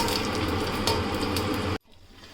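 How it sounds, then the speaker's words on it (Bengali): Flat bean chops frying in hot oil give off a steady, dense sizzle with crackling bursts, which cuts off abruptly near the end, leaving only quiet room tone. "আর 3 থেকে 4 মিনিট ধরে এরকম উল্টে পাল্টে ভেজে নিতে হবে।"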